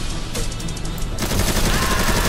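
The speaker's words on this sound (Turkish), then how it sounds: "Olsun, gene de kafasına sıkacağım." Gunfire in the video game GTA 5, a dense, continuous volley of rapid shots that grows louder and heavier partway through.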